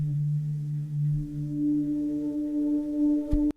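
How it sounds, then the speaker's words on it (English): Arturia deep pad synth preset sounding a sustained low chord with a few layered tones that shift partway through, steady and alone, cutting off sharply at the end. "The second one, we have this deep pad."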